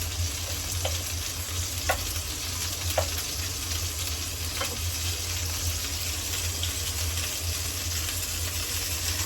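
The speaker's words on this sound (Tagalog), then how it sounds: "ipiprito ko lang yung chicken wings" Chicken wings frying in hot oil in a home kitchen, a steady loud crackling sizzle with a few sharper pops scattered through, continuous and close with no voices.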